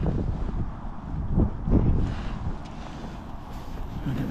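Gusty wind buffets an open fishing lake during a match, roaring low and steady with louder surges near the middle, close to the microphone and with no talk.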